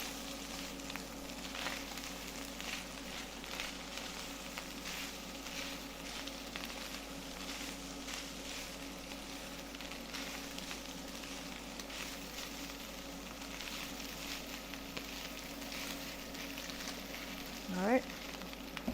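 Gyro meat fries in a pan with a continuous moderate sizzle over a low steady hum, and a brief scrape of stirring comes near the end.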